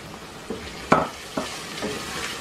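Nihari masala and yogurt frying in a pan as they are stirred, with a low sizzle under several distinct scraping strokes spaced about half a second apart, close and fairly quiet, no voices.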